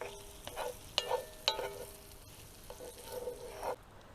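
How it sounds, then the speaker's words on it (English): Oil sizzles steadily in a pan with rice frying inside a hot tent, with a few sharp clinks and scrapes of stirring breaking through the crackle at close range. "Partially just to soak up all this oil. Get that frying, lovely."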